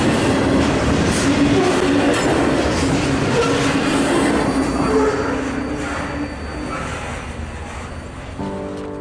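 A freight train on the Three Hills subdivision rolls past loudly and close, with rumbling wheels and a thin squeal that ease off toward the end.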